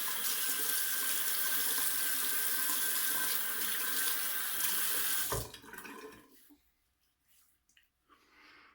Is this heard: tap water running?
yes